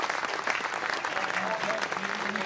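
Steady crowd applause fills the stands at a rugby match between Ayrshire Bulls and Heriot's, a continuous dense patter of clapping at moderate distance with faint voices mixed in.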